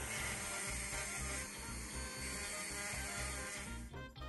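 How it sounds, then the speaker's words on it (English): A mini power sander grinds the casting knobs off metal chain links with a close, continuous high-pitched whir and buzz that wavers as it bears on the metal, then drops away at the end. "Pepe Tools gave me this amazing mini sander, and to be honest, I don't think I'd want to do this any other way now."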